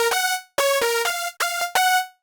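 Two layered synth leads, Lead Oak and Lead Lizard, play a brisk melodic phrase together with thick, bright, sharply attacked notes in a bouncy stop-start rhythm, loud and alone.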